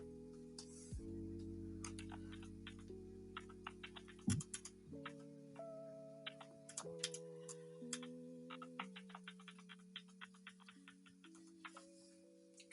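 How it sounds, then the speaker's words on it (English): A computer keyboard clacks in quiet, irregular bursts of light clicks at a desk during photo editing, with soft sustained tonal music in the background. "Can y'all hear my keyboard clickety clacking?"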